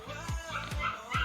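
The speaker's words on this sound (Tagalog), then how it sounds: "maingay yung aso ko" A pet dog indoors lets out three short, sharp barks or yips at regular intervals, close by and moderately loud, with a voice audible in the background.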